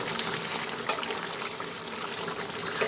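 Potato and pointed gourd curry simmering in a pot after ghee has been added, a steady bubbling hiss with two sharp brief clicks, and no talking.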